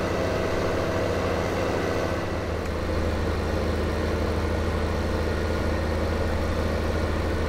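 Tractor engine idling in the Farming Simulator 2015 video game, a steady low rumble that runs unchanged and fairly loud throughout, with no voices over it.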